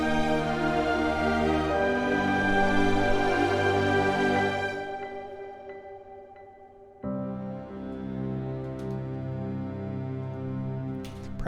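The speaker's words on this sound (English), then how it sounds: "I'm gonna mix these pianos." Two virtual pianos, Keyscape and Noir, blended in a mix: sustained, rich chords ring out and slowly fade, then a fresh chord enters with a faint high tinkle, full and close with no voices.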